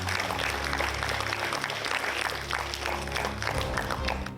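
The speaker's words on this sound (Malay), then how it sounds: "Beri tepukan gemuruh untuk mereka semua." Applause for contestants at the final stage of Qari Junior 2015, a steady wash of clapping from an audience, sustained and fairly loud throughout.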